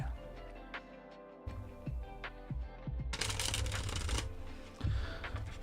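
Tarot cards being shuffled by hand, a series of crisp riffling and slapping bursts with a dense stretch in the middle, fairly close and alone with no talk.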